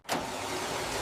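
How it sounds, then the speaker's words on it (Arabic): A cartoon car in a garage gives a short burst of engine noise that rises sharply and holds steady for about a second. "الموتور بقى فرفوش"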